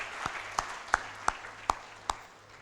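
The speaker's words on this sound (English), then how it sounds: "Please give all of them a round of applause." Sparse applause from a small audience at a peace leadership conference, about six separate claps spaced roughly every half second, faint and hollow in a large room, with no talking.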